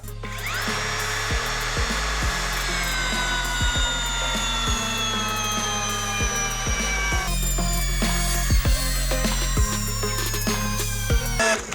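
An ELTOS cordless drill drives a 300 mm lag screw, its motor whining loudly up close with a falling pitch as it labours, broken by repeated rhythmic clicking pulses and brief stalls over nearly twelve seconds.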